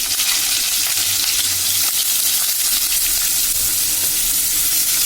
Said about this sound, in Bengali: রসুন কুচি, একটু জাস্ট 2-3 সেকেন্ড ভাজা ভাজা হলে আমি এর মধ্যে দিয়ে দেবো গাজর।